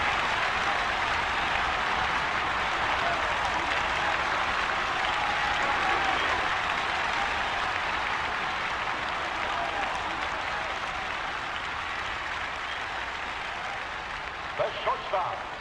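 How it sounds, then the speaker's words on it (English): A simulated stadium crowd in the baseball game All Star Baseball 2002 roars and applauds in a dense, continuous wash that holds steady throughout and thins slightly near the end. "This crowd is going crazy."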